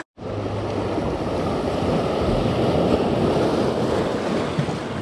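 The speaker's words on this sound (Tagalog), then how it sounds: "Lakas ng alon." Strong ocean waves surge and roar continuously, a loud, steady wash of surf with wind rumbling over it.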